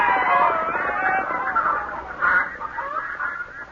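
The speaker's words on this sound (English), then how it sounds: "Look at all the chickens and things they've grabbed." Chickens clucking and squawking in a noisy, agitated flurry, close and loud, with a rooster-like cry rising partway through and a voice speaking over the birds at moments.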